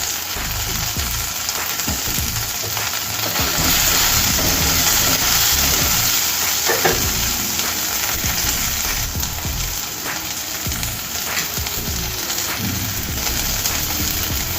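Pandu mirchi fried rice ingredients frying steadily in a pan, a continuous close sizzle and crackle with a low hum underneath, no talking.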